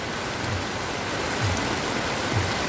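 Heavy rain that has been falling for nearly an hour drums steadily over garden plants and trees, a thick continuous hiss with faint low thumps of drops.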